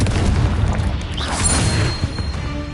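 A Confringo fire spell explodes in Hogwarts Legacy, giving a loud, dense blast with a crashing burst that rolls on through the whole moment amid ongoing combat noise.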